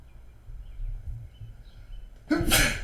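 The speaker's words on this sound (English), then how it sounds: "Hold on, I'm gonna sneeze." A single sharp, loud sneeze bursts out near the end after a quiet stretch with faint low background sound.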